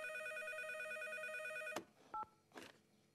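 An old cartoon telephone rings with a bright, steady electronic trill, stops abruptly when it is picked up, and leaves a short beep and a soft clatter at close range.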